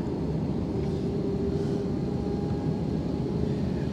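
A Jetstar A320-200 airliner landing at Sydney, heard from inside the cabin as a loud, steady low-frequency engine and airflow roar. A faint tonal whine sits on top, with no talk.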